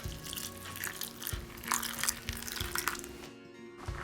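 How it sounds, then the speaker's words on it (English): Hot water pours over 100 grams of pistachios in a bowl, a steady close splashing and trickling stream that runs for several seconds before briefly cutting out near the end. "Pour hot water over them."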